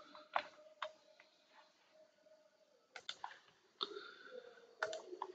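Computer keyboard Enter key pressed during MS Word work, sharp isolated clicks close to the mic at irregular intervals in a quiet room.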